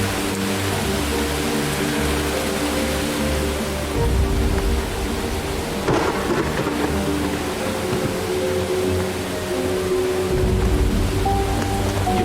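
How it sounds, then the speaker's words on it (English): Steady rain sound effect, looped, a continuous wash of broadband hiss with a faint low rumble, loud and unbroken across the whole stretch, with no voices over it. "And then I need the rain sound. Do I have rain? Yes. So let me see. Let me loop the rain sound here."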